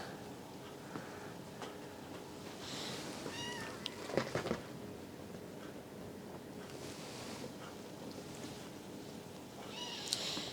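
Kittens meow in short, repeated cries close by, several calls spread across the clip while they are given milk, with steady wind and outdoor hiss underneath.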